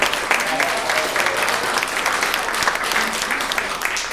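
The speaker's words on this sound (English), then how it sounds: "Let's give Joy a round of applause." An audience at a resident forum meeting gives a round of applause, a steady, fairly dense wash of clapping heard from within the room for a few seconds.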